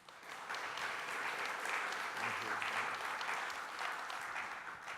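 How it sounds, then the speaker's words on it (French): An audience at a business conference breaks into sustained, even applause to welcome an economist to the stage. The clapping is dense and steady, rising quickly and holding for several seconds. "Je vous demande d'accueillir et d'applaudir Monsieur Philippe de Sertine."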